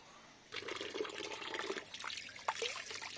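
Hands being rinsed under a tap fed by a rooftop water tank, water gushing and splashing steadily after a brief quiet start, fairly close.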